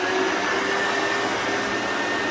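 A vintage 1969 Hoover Junior 1346 vacuum cleaner runs close by with a loud, steady motor roar and a faint high whine, no voices over it.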